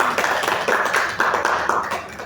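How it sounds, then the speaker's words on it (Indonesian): A classroom of students claps together for a classmate, a short burst of fairly even, rhythmic hand claps heard close and clear. "Tepuk tangan untuk Aca semuanya."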